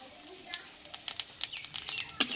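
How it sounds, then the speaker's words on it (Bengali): Dried chili and panch phoron seeds hit hot oil, giving a quick run of sharp crackles and pops that spatter irregularly over a faint sizzle, close by. "এই তেলে দেবো একটা শুকনো লঙ্কা আর দেবো হাফ চামচ মতো পাঁচ ফোড়ন"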